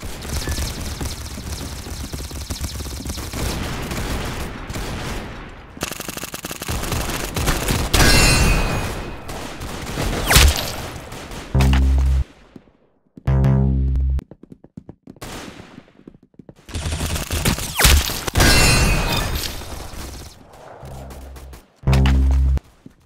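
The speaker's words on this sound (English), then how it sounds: "Very good shooting." Gunfire rings out in bursts, with loud, sharp rapid shots and booming reports separated by short silences, some of the volleys sounding like machine-gun fire.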